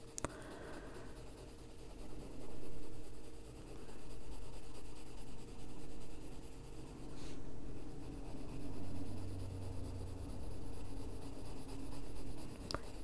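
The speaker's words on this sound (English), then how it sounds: "Change the angle of your pencil so you don't have the lines all going one way." A colored pencil shades lightly across paper in a coloring book, giving a soft, continuous scratchy rubbing with steady back-and-forth strokes, close and quiet, with no talking.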